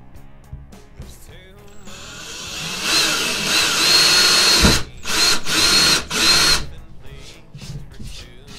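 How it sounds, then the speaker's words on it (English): A power drill bores holes into a Kydex cheek riser, whining loudly in several sustained runs broken by short pauses, with quieter handling sounds before and after. "so we're gonna go ahead and drill our holes here"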